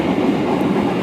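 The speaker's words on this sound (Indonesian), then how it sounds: "kereta api Mutiara Selatan sudah diberangkatkan dari stasiun Kiara Condong" The Mutiara Selatan passenger train rolls along the rails with a loud, continuous low rumble and steady rattle, heard from aboard, with no voices.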